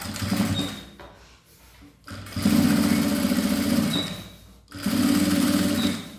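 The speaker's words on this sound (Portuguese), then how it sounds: "Passando a costura de rebatido" A sewing machine stitches a topstitch seam through firm sublimation fabric on a unisex zippered toiletry bag, running in three steady bursts with short pauses between them, close and loud.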